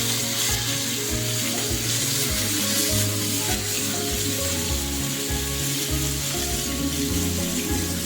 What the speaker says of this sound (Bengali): মাছগুলো আমি ভেজে নিচ্ছি একে একে করে